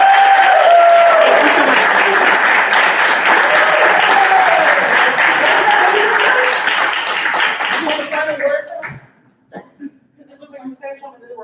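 An open mic audience breaks into loud, dense applause with whoops and cheering voices, sustained for several seconds before tapering off abruptly, followed by scattered voices and murmuring.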